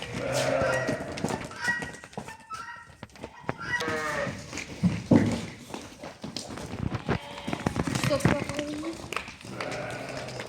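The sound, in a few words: sheep at a livestock market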